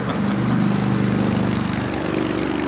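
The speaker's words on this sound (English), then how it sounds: "That is United Airlines Flight 1013 coming in from Denver and the 777-200" A United Airlines Boeing 777-200 coming in from Denver at LAX rumbles with a steady, loud low jet drone, holding level throughout without voices.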